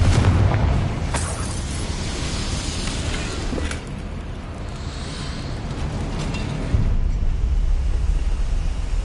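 A Confringo spell blasts in Hogwarts Legacy as a loud, sustained rumbling explosion with a heavy low roar and scattered crackles, and a fresh thump near the end, without speech.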